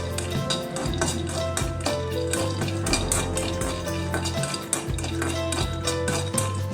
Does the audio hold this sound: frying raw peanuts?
yes